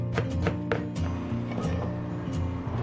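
A knife chops garlic on a cutting board, several quick sharp taps in an uneven rhythm heard close up over a low hum.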